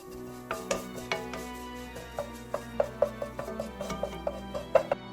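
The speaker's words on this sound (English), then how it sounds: "Let it stir fry together for about 30 seconds to blend those flavors." Crab sticks and dried Sakura shrimps are stir-fried in a pan, with a quiet sizzle beneath repeated sharp clicks and scrapes of a utensil against the pan in an uneven rhythm.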